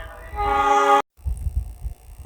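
A KRL Commuter Line train at Kampung Bandan station sounds a loud, close horn tone for about a second, then the sound cuts out and low rumbling track noise follows.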